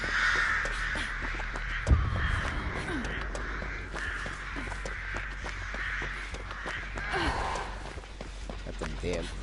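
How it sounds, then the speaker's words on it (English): Crows cawing in the Dead by Daylight video game, heard as repeated harsh calls over steady game background noise, with someone talking over it. "Got the damn crows off."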